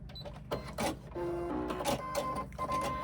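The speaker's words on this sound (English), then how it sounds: "Pivot and come down and sew that side seam. Again, locking off at the end." A sewing machine runs a continuous stitch along the side seam of a crossbody bag, a close, steady mechanical whir and rattle that pauses briefly at the pivot.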